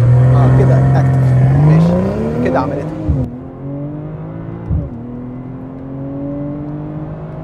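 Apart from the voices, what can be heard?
BMW M340i xDrive launch acceleration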